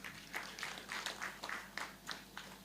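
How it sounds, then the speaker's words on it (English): Light applause for a speaker named Maurice at a regional tourism expo, a faint, thin patter of clapping from a small audience, heard at some distance with rhythmic bursts. "Another clap to Maurice"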